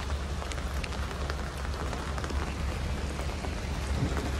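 Steady rain falling and pattering on surfaces, with scattered louder drops and a low rumble underneath.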